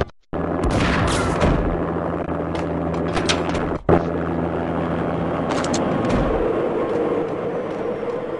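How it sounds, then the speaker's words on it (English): An armed helicopter in the video game Max Payne gives a steady, loud rotor drone with sharp bangs scattered through it, dominating the scene without speech. "An armed helicopter just landed on the manor grounds."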